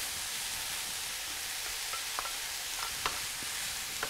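Mushrooms stir-fried in a pan for a British cream soup give a steady soft sizzle, with light scraping and clicking of the spatula scattered through, no talking.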